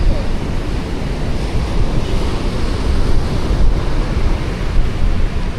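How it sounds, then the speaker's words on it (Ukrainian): Constant roar of dark sea surf on an empty beach in Vietnam, mixed with gusting wind buffeting the microphone, loud and unbroken throughout. "І, як завжди, хвиля."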